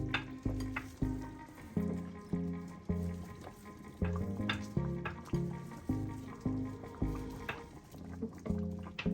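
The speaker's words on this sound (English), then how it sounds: "I'm going to start adding the okra now and slowly stirring it in." Okra being added to a pot of okro soup and slowly stirred in, with rhythmic spoon scrapes and sloshing over a steady low simmer, repeating about every second, close and moderately loud, no talking.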